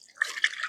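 Water is poured out for drawing a kolam, a short faint splashing trickle that starts softly and builds into a brief bright spatter.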